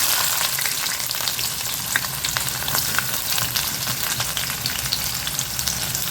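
Onions frying in Dalda fat with cinnamon and cloves for a chicken fry, giving a steady, close, even sizzle with faint crackles throughout and no talking.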